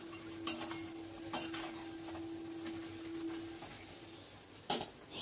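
Meat being stirred in a pan over medium-low flame, a few distinct metallic scrapes and clinks of a utensil against the pan over a quiet background hum, no talking.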